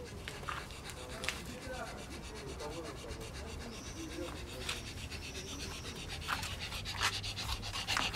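A dog that has just had surgery pants rapidly and steadily up close, with soft rubbing noises in the background.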